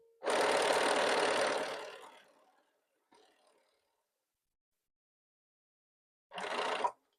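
A sewing machine stitches fabric rectangles together for a quilt, running in one steady burst of about two seconds that slows to a stop, then a short, quieter second burst after a pause.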